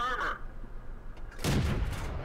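A tank cannon fires in World of Tanks, an FCM 36 Pak 40 shooting shells at an enemy, with one loud blast and a rumbling tail late in the short span, preceded by quieter engine hum.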